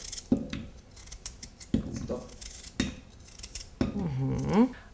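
A kitchen knife cuts potatoes into thin rounds on a board, four distinct crisp chopping strokes spaced out over a few seconds, close and fairly clear, with a little scraping after the last cut.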